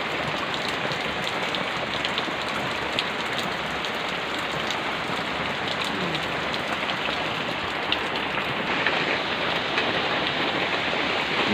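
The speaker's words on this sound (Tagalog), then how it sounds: "Ayaw pong huminto ng ulan." Heavy, unrelenting rain pours down steadily in a dense, constant hiss, loud and close, drumming on a surface near a leaking doorway throughout with no voices.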